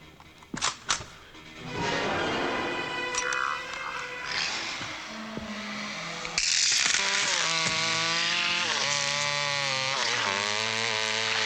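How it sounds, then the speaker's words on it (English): Chainsaw in a gory kill scene from the horror comedy film Bad Taste, a sharp impact and then a loud revving engine whine that rises in pitch and holds, with screams and voices over it. "Up the middle chainsaw."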